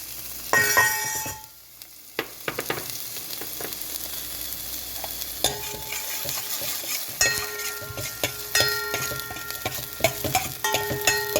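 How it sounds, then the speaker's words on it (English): The white part of a spring onion fries in a pan for a vegetable soup, with a bright crackling sizzle throughout, broken by a few louder clattering stirs and utensil knocks against the pan and brief ringing metallic tones. "Add the white part of the spring onion."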